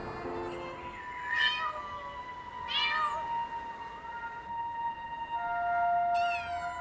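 Stray kittens lost in an unfamiliar place meow in high, thin cries, three separate calls spaced a few seconds apart over a faint steady hum.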